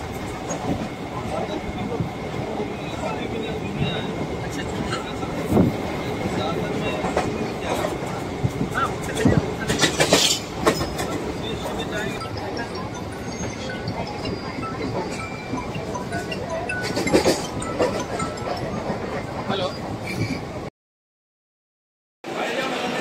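A local train in Maharashtra rolls along the tracks with a continuous rumbling clatter and rhythmic clickety-clack, heard from inside the carriage, with occasional voices and a brief cut to silence near the end.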